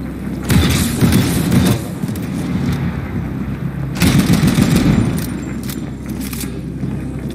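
Bursts of loud gunfire from the video game The Ascent on Xbox Series S, two heavy volleys with a brief lull between, over a constant rumbling game background.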